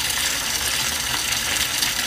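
Lake water pours steadily into an aquaponics fish tank, a continuous bright gushing splash close by with no pauses.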